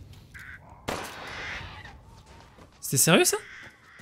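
Crows cawing in the horror game Resident Evil Village: a few harsh caws rise over eerie ambience, with a louder burst near the end, while someone talks over the game.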